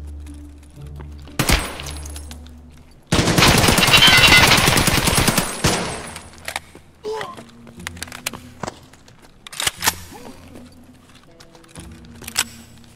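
Automatic gunfire in a shooter video game, a sustained loud burst of rapid shots lasting a few seconds, followed by scattered single shots, thuds and game effects with voices talking around it.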